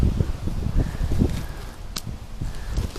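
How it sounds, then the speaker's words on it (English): Wind gusting through trees at an outdoor tree-removal job, a steady broad rustle of leaves and branches with low rumbling buffeting close to the microphone, plus a few scattered crackles and a brief sharp snap partway through. "That wind is blowing."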